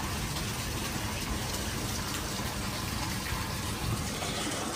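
Water running steadily from a tap or spout for rinsing feet beside a hotel pool at a Melaka spa hotel, a broad continuous gush close by with no talking.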